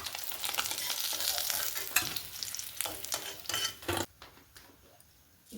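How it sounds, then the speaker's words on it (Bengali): Cumin seeds sizzle and crackle in hot oil for a tempering, following fried katla fish. A steady loud frying hiss is stirred with a utensil clinking on the pan, then drops to a quieter sizzle near the end. "একটু জিরে ফোড়ন দিচ্ছি"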